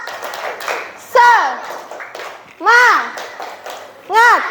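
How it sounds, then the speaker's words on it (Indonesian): A classroom group does a rhythmic clapping chant, tepuk semangat, during a microteaching session: children's voices chant in short bursts with claps and taps between them, three rising-and-falling vocal phrases close by. "Kita kasih semangat, tepuk semangat."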